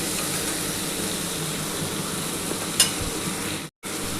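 Potato pieces and yardlong beans fry with spices in hot oil, giving a steady close sizzle with stirring scrapes, one brief sharp clink and a short drop-out near the end; no one speaks.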